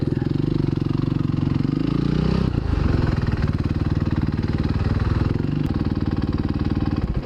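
A Supermoto motorcycle engine runs close and loud throughout, a steady mid-pitched throb that dips briefly before picking back up, with a faint voice now and then underneath.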